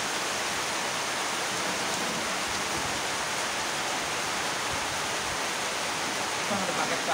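Steady rain falls in a forest near the Curug Cilember waterfall in Bogor, West Java, a dense, even hiss that continues unbroken and fairly soft throughout.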